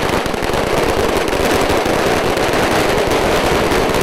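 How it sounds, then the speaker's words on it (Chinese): A string of firecrackers swung by temple staff during a lantern-opening ceremony at Wude Temple in Zhushan township, a dense, continuous crackling barrage, loud and close, running unbroken for several seconds. "由庙方的人员以甩动鞭炮的方式进行开龙眼灯的仪式"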